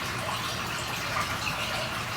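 Water pours steadily out through a clear drainage bleeder notch in a canal control structure, a constant hissing rush with no pauses, heard alone.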